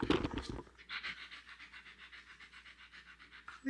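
A dog pants rapidly and rhythmically right next to the microphone, a quiet, steady series of short breaths after a brief rustle at the start.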